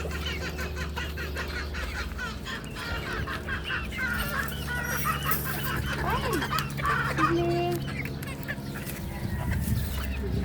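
Domestic chickens in a backyard flock cluck and call steadily throughout, several birds near and overlapping, with a few short louder squawks over a constant low background hum.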